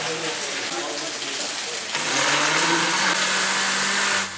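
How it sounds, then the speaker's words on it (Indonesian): A kitchen blender purees small chopped pieces of aloe vera gel, a loud, continuous whir that grows harsher partway through and then cuts off at the end. "gel lidah buaya dipotong kecil-kecil dan dihaluskan dengan menggunakan blender"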